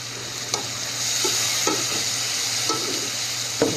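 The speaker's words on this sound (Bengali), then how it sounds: "আমি পেঁয়াজ রসুন আর আদাগুলো কষাইতে দিয়ে দিছি" Onion, garlic and ginger sautéing in hot oil give a continuous bright sizzle, broken by a few sharp scrapes and knocks as a spoon stirs the pan, with no talking.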